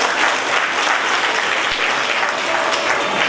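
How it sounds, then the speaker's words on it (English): Steady, dense applause from a crowd, clapping continuously at an even level from start to finish. "give a big round of applause to all our teachers for their efforts"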